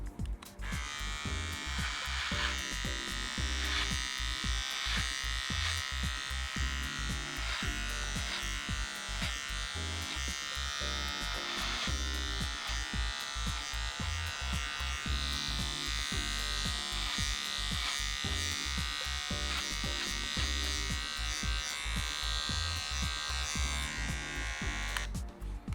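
An electric beard trimmer set to 1.5 millimeters buzzes steadily and close up for a long stretch while it is combed down through a mustache, with a constant whine and faint rhythmic scraping strokes and no talking.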